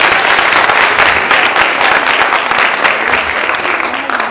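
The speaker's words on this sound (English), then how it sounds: "so we're going to give that a round of applause" Audience at a high school youth empowerment forum applauding, loud sustained clapping that stays full and even throughout with no talk on top.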